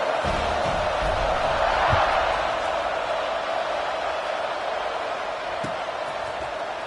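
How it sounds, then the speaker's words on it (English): A college football video game crowd buzzes as a steady, dense background murmur with faint thumps, under a commentator's voice. "this crowd is buzzing after that last score"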